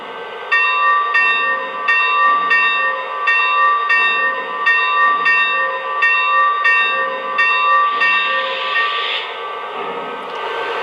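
The bell sound effect of a Lionel Milwaukee Road S3 #260 model steam locomotive rings in a steady, evenly spaced series of bright metallic clangs, loud and close, repeating for about ten seconds with no talk.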